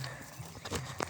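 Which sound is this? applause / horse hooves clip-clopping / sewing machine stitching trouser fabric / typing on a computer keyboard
horse hooves clip-clopping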